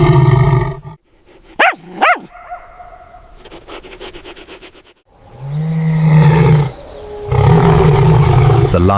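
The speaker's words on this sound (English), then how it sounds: "A deep, earth-shaking feline roar erupts." A lion erupting from red Kalahari sand lets out deep, loud feline roars, two sharp bursts followed by long rumbling growls, close and powerful with no talking.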